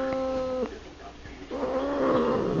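A cat tangled in a bedsheet lets out drawn-out, strained cries, a sustained yowl at the start and another rising wail after a short lull, close and fairly loud.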